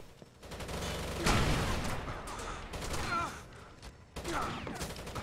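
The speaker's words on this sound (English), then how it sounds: "I was killed by a light machine gun this time." Sustained light machine gun fire in the video game Rainbow Six: Vegas 2 rattles in dense bursts for most of the clip, with a brief lull before the shooting resumes.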